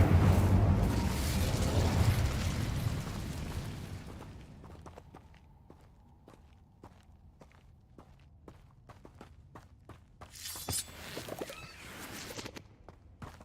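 The Incendio fire spell is cast in the video game Hogwarts Legacy, with a loud, roaring rush of flame lasting several seconds. It fades into light clicks and steps, then a second, shorter flare.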